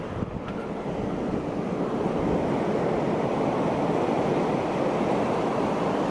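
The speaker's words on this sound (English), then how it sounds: "That's some serious wind right there." Strong wind rushes through thrashing trees outdoors, a loud, steady broadband roar that persists without a break, alone with no voices.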